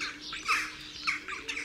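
A starling copies a jackdaw's call, a run of harsh, raspy squawks in short clustered bursts, close and moderately loud, with no talking.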